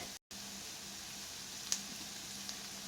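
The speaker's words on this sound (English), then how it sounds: "now that the onion and garlic is sauteed good" Onion and garlic sautéing in a pan, a steady soft hiss of sizzling oil that carries on evenly with a brief dropout near the start, faint and close with no talk.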